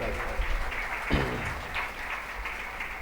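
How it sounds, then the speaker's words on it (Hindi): An audience at a Shrimad Bhagavat Katha religious gathering claps for the singers and accompanying musicians: a continuous wash of crowd applause at moderate distance, fairly soft, with a few louder bursts. "उनके लिए भी एक बारी तालियां बजाएं"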